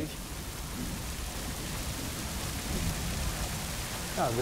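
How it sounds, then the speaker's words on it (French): Continuous hiss of rain falling, fairly faint and even, with no voices. "Il pleut."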